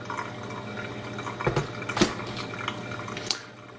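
Water drips and trickles through a Hario pour-over coffee brewer, soft and close, with a few louder splashes against a quiet background.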